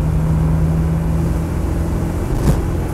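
Land Rover Defender 90 with a 300Tdi diesel engine being throttled up, a loud, steady low engine drone with a strong harmonic hum, close and continuous with no speech.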